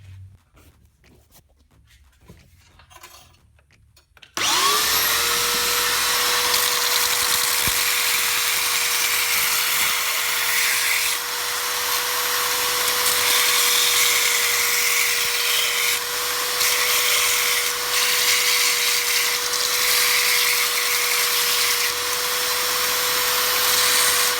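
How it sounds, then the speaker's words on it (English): A belt sander grinds a bushcraft knife blade, starting after a few seconds of quiet with a loud, steady, continuous whine and abrasive hiss that holds evenly to the end, close and alone without talk. "the next step is to grind with the belt sander"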